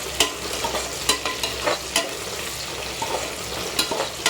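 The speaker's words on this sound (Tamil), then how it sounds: "வெங்காயம் வந்து ஒரு பாதி அளவுக்கு வதங்கியிருக்கு" Onions and cashews sautéing in a pan, a continuous sizzle punctuated by regular stirring knocks of a spoon against the pan, close and without voices.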